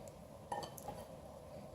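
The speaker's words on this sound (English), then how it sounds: "Let me grab a spoon and see if it's good" Kitchen spoon picked up from among kitchenware, giving a couple of brief light clinks near the middle over a steady low room hum, close and fairly quiet, no talking.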